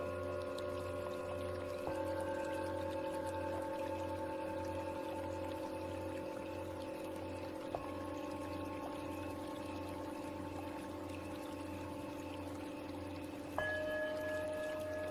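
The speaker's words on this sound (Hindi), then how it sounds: "जो साथ में पानी का साउंड है," Gentle flowing water runs continuously beneath sustained meditation music for a guided healing meditation, the soft wash steady and calm under drone-like chords that shift a few times.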